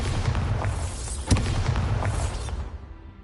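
Bombarda blasting spell going off in Hogwarts Legacy on PS5: a dense rumbling roar with one sharp thump near the middle, the low boom tailing off at the end.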